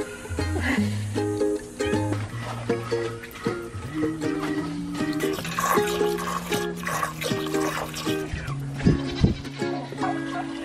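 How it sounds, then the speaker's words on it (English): Goats bleat repeatedly at close range while being milked, with quick streams of milk splashing into a pail throughout. "The best days are started with milking goats,"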